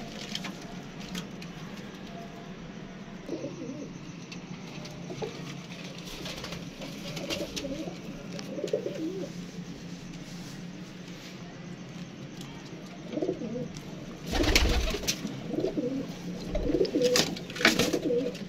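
Soft pigeon cooing and fluttering murmur throughout against a low steady hum, with louder wing flaps and rustling near the end.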